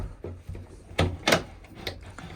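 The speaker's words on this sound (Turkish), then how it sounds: "Şöyle kapımızı kapatalım." A homemade wooden pigeon coop door is swung shut and latched outdoors in a snowstorm, giving a few knocking thuds and a scrape over a soft background hiss.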